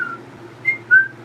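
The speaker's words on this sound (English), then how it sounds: "I shouldn't have been whistling." A person whistles a few short, clear high notes, fairly close, with a low steady hum underneath and no talking.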